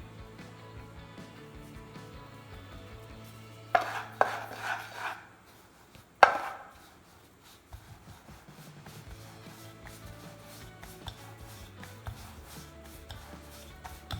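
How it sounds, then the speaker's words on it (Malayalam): Kuboos flatbread dough being rolled out on a floured board, quiet repeated rubbing and scraping strokes with a few sharper knocks from the rolling pin, close and faint, no voices. "അല്ലാതെ പലയിലോട്ട് കുറച്ച് പൊടി ഇട്ടിട്ട് നമുക്കിതൊന്ന് പരത്തിയെടുക്കാം."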